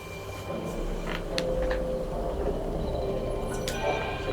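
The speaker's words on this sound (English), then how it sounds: "This is North Station. The Yusnan-bound train is all you'll find here." A train rumbles at North Station in the Final Fantasy XIII video game, a continuous low rolling drone with steady whining tones and a few faint clanks on top.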